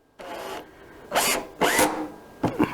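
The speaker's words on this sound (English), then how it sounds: "I'm also putting some screws in the center area here" A power drill drives screws into a 12mm aluminium plate on a 6012 CNC router, with three short whirring bursts separated by pauses and a softer rubbing sound before them, close and clear, without talk.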